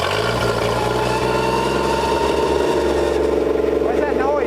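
Engine of a 1968 Plymouth Valiant, a long-stored Mopar, runs steadily with a whirring alternator and belt whine layered over the low drone, close and loud, with people talking over it.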